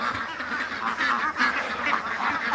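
Ducks quacking and honking continuously, a close, loud, overlapping flock chorus of nasal calls with no pause.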